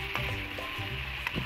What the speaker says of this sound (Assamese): হাতাৰে মই এনেদৰে লৰাই লৰাই কিছু সময় ভাজি থাকিম